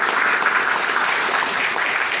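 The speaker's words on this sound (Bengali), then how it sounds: "একবার জোরে হাততালি হোক।" Loud, dense audience applause fills a supplement presentation hall, a continuous wash of many hands clapping for a couple of seconds without pause.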